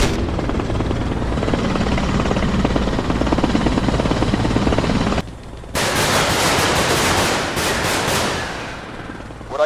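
Helicopter flying in the war game Arma Reforger, a steady loud rotor drone with bursts of gunfire mixed in, briefly dipping near the middle before resuming strongly.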